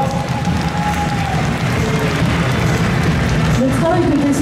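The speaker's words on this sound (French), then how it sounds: "On l'applaudit encore très très fort." A crowd at a cosplay costume contest applauds a contestant with steady, dense clapping that fills the room, while a host's voice carries over it.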